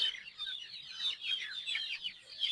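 Young game-farm chicks peep and cluck continuously in a busy, overlapping chorus of high chirps while being given their morning feed, fairly close and steady throughout with no talking.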